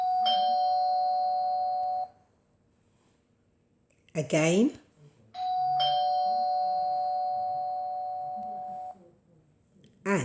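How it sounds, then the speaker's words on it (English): A doorbell rings twice, each chime a sustained two-tone ding-dong lasting a few seconds, with a brief spoken word between the rings. "The doorbell rang."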